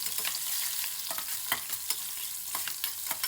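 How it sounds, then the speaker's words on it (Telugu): Green chillies, ginger, curry leaves and carrot pieces sizzle in a hot pan, with a steady fry hiss and repeated scraping clicks of a spoon stirring them, close and moderately loud with no talk. "పచ్చిమిర్చి అల్లం ముక్కలు కరివేపాకు కూడా వేసేసి కొంచెం వేగనిద్దాము క్యారెట్ ముక్కలు వేసేసుకొని ఒక్కసారి ఈ విధంగా కలిపి"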